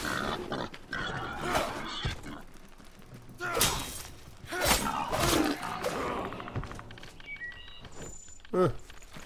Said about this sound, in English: They've added pigs to my clay mound.